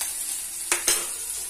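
Chopped green chilli and ginger-garlic paste fry in butter with a faint steady sizzle, punctuated by two brief sharper scrapes or spatters close by, with no voices.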